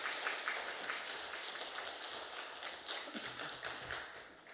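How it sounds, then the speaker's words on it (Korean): Church congregation clapping together at a Wednesday evening worship service, a steady dense patter of many hands that fills the space, loud and close, with no one talking over it. "목사님 나오실 때 큰 박수로 환영해 주시기 바랍니다."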